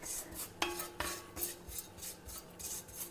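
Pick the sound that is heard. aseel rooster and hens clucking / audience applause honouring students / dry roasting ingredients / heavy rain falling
dry roasting ingredients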